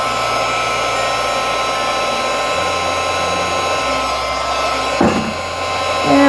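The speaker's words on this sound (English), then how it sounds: "my heat gun's not quite hot enough yet, but it'll get there." A heat gun blows steadily over white embossing powder on a card, a continuous airy whoosh with a slight rise in loudness near the end, no talking.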